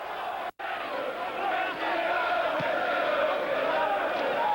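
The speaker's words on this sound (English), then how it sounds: "Crowd chanting for Guy Whittingham to add a bit of firepower to the Pompey attack" A football crowd at a Blackburn Rovers match in the 1991-92 season chants as a broad, steady roar of many voices from the stands, with a brief dropout early on.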